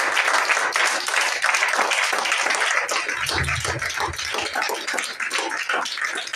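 A church congregation applauds during a worship service, with dense, continuous clapping from many hands. A low murmur of voices and faint musical tones run beneath the applause.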